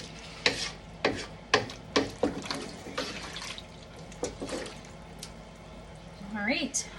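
Mushroom gravy simmers in a pan as the alcohol cooks off, with a spoon clacking and stirring in sharp bursts over a steady low sizzle and bubbling, close and moderately loud.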